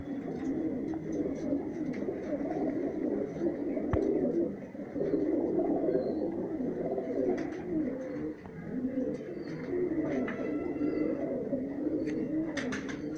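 High-flyer pigeons in Rajsamand, Rajasthan, coo softly and continuously, several birds overlapping in a low, rolling murmur at moderate distance with no talk.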